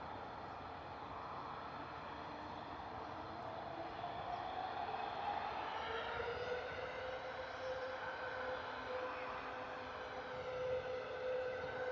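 A Ryanair airliner taxis out toward the runway at Bristol Airport on a wet, stormy evening, its jet engines giving a steady, fairly loud whine and rumble that swells slightly as it passes.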